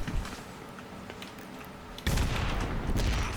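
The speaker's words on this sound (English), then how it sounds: "Detonate the hive destructor." A hive destructor detonates in the video game Destiny 2: steady gunfire-like crackle and rumble give way to a sudden, louder sustained explosive roar near the end, with no talk.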